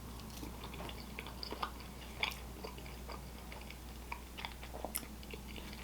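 Outback Steakhouse Aussie Fries topped with cheese, soggy from sitting in a takeout container, chewed close to the mic with soft, irregular mouth noises and a few sharper bites over steady background hum.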